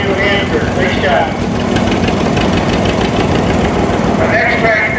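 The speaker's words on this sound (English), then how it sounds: "Dave Christensen from Penn, driving a nice John Deere 50 right here" A John Deere 50 tractor engine runs steadily in a tractor parade at a steam engine association show, a continuous loud chugging under an announcer's voice that talks over it throughout.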